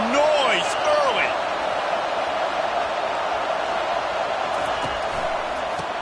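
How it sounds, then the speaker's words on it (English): Steady, dense roar of a stadium crowd at a football game fills the whole stretch, loud and continuous, with a few brief whistle-like tones near the start. "This crowd bringing the energy and noise early."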